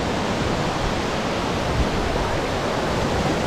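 Thooval waterfall in Idukki pours down in a dense, continuous rushing roar, even and unbroken throughout with no talk.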